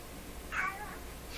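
A black cat gives a single drawn-out meow from close by, asking to go outside, with a low indoor hum behind it.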